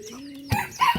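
Desi hens and young chicks in a coop give a short burst of clucks and a thin chirp, close and brief, with a faint steady cheep beforehand.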